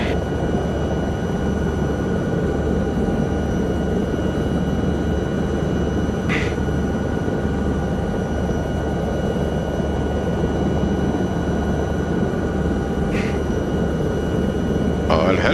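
A helicopter in a VR flight game comes in to land at a hospital during an Alps mountain rescue, its rotor and engine making a loud, steady drone throughout, with a couple of faint clicks and no talking.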